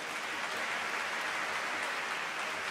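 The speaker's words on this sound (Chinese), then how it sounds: "杰出校队，掌声鼓励一下。" A concert audience applauds in a steady, dense wash of clapping that holds at an even level from start to finish, with no voices standing out.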